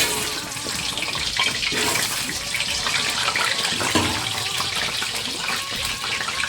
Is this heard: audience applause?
no